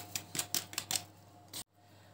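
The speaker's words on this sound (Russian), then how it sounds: "Хорошо размешиваем." A spoon stirs yeast and sugar in a cup, giving a quick series of about eight sharp clinking taps against the side, close and fairly quiet, then abruptly stops.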